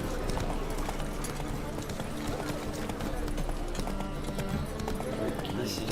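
Horse hooves clip-clop in The Witcher 3 video game, a steady rhythmic trot over a busy game soundscape with music, while a voice talks over it.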